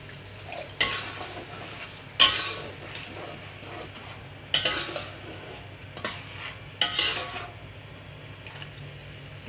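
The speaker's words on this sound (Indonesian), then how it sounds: "Diaduk ya." Green mussels in Padang sauce stirred in a pot: a few sharp scraping knocks of a utensil against the pot at irregular intervals over a quiet simmering background, close and clear with no talk.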